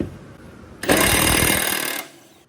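An impact wrench with a 19mm socket removes mower deck blades in one loud, close burst of rapid hammering lasting about a second, with quieter shop background before and after.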